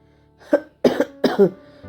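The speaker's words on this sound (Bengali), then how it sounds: "ক্রমাগত কাশিটা বিরক্তিকর" Three harsh coughs close by, spaced roughly evenly, with a rough throaty rasp and quiet pauses between them.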